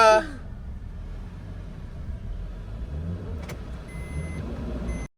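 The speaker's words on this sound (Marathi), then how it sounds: "त्याच्यामुळे गाडीचे चाक फिरतायत नुसतेच" A stuck car's engine runs steadily at mid pitch while its wheels spin uselessly during a push attempt in Gujarat; a steady rumble continues throughout, with a brief clank near the middle.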